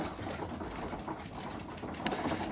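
Pigeons eat from a bowl at close range, with faint soft cooing and pecking over a continuous low background hum.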